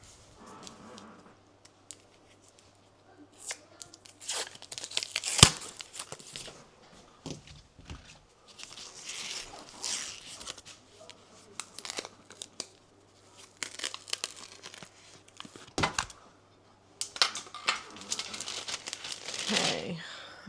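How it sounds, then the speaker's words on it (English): A tube of crescent roll dough is peeled and torn open with crinkling paper and tearing sounds, plus a sharp pop around the middle, scattered rustling bursts spread between quieter pauses. "let's get our crescent roll open"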